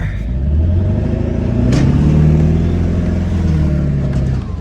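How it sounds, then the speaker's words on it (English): A stuck 4-wheel-drive truck with its plow raised revs hard in reverse, the engine holding a loud, steady, close roar with a slight rise in pitch as it strains against the snow. "We're in reverse in 4-wheel drive."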